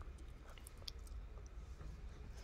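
A Rottweiler munching on a piece of cucumber, giving soft, close, irregular wet chewing and crunching sounds at low volume, with no talking.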